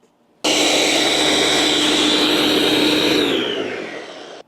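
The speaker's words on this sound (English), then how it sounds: "You need to blend this for quite a long time, at least 2 or 3 minutes." A blender switches on abruptly and whirs loudly and steadily, blending vegan breakfast gravy ingredients, its motor pitch easing slightly before it cuts off.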